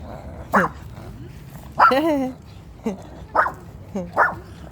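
A small puppy barks outdoors on a walk, giving several short yappy barks with one longer yelp, close by and mixed with people talking and laughing.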